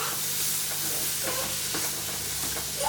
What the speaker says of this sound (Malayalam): ഇനി നമുക്ക് ഫൈനലായിട്ട് ടൊമാറ്റോ കൂടെ ചേർത്ത് കൊടുക്കാം. നന്നായിട്ട് മിക്സ് ചെയ്ത് കൊടുക്കുക.